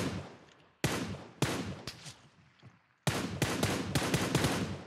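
Gunfire in the mobile battle royale PUBG Mobile, an M24 sniper rifle among the weapons: several sharp broadband shots with decaying tails, a lone shot, then a rapid burst of closely spaced reports near the end, loud and without talk.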